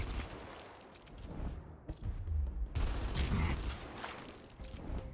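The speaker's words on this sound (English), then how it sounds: "I guess we could just shoot him a bunch of times." Gunfire in the video game Gears Tactics as a soldier shoots at a grub, with a rattling burst, a short pause, then a heavier sustained volley of shots with mechanical clatter, moderately loud.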